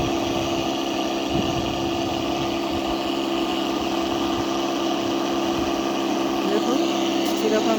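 A shoulder-carried engine-driven sprayer pump runs at a steady hum while spraying water over cauliflower seedlings, a continuous close drone with faint vibration throughout.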